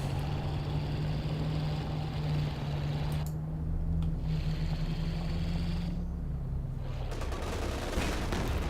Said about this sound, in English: that was the sound of the King Tiger arriving